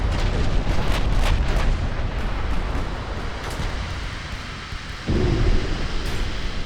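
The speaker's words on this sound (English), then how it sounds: "Torpedo looks to be striking perfectly amidships." A heavy rumbling impact from a torpedo striking a battleship amidships in Ultimate Admiral: Dreadnoughts, in a France/UK battleship engagement, a loud continuous thunderous roar with a fresh surge near the end.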